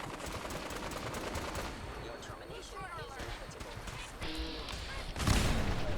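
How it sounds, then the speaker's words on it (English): In Fallout 4, rapid gunfire crackles throughout before an aircraft explodes with a sudden loud, broadband burst near the end. "Predwing, an aircraft and it exploded in front of me"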